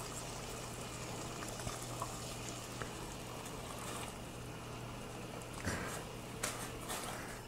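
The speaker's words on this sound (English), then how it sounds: "drop in our guava" Guava dropped into a pot of boiling water on a stove, a soft bubbling and sloshing with a steady low hum beneath and a few faint splashes and clinks.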